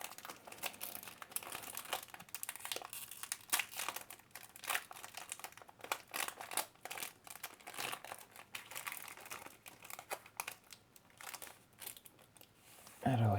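A Pokémon booster pack wrapper covered in sticky glue crinkles as it is opened, with dense, close, irregular crackling and rustling for several seconds under quiet talk.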